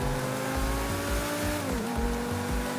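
Game car in GTA V (FiveM) accelerating, its engine note climbing through gear changes with a brief dip near the end, loud and steady with a clear revving tone throughout.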